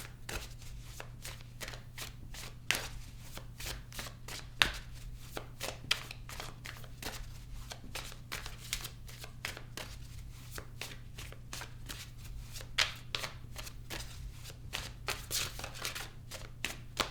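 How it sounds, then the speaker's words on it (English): A deck of tarot cards being shuffled, with soft, rapid flicking and tapping in a steady rhythm that continues throughout, faint and close over a low constant hum. "I'm going to clarify the cards and pull some advice."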